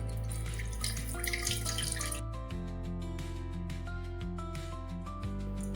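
Water runs steadily into a small three-litre metal pressure cooker, with a ringing, resonant hum under the splashing, close and continuous for several seconds.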